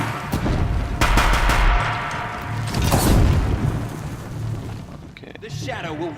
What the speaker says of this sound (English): take the Deathbringer and just shoot at everyone